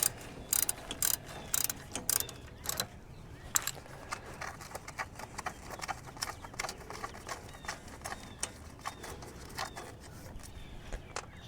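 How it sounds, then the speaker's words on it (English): A wrench loosens the brake caliper bolts on a 2016 Ram 1500 during a pad and rotor job. Faint, irregular metallic clicks and ratcheting ticks sit over quiet background noise, with no speech. "put the 13 on the caliper bolts themselves, and loosen it up"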